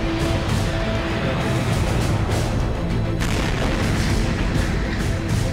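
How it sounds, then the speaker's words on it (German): Meteor exploding in the air over Chelyabinsk, Russia, on a February morning in 2013; a dense, sustained rumbling roar with deep booming energy and crackling bursts, loud and continuous throughout. "Er explodiert in der Luft."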